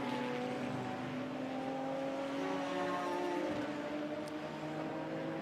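Lotus 340R race car running at Brands Hatch during a Classic Sports Car Club qualifying session, a steady, fairly distant engine drone with sustained tonal whine and no sharp changes in pitch.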